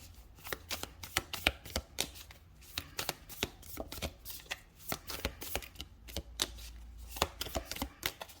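A tarot deck handled and cards drawn, with rapid crisp card flicks and riffling snaps, dozens of sharp close clicks in an uneven rhythm with no talking.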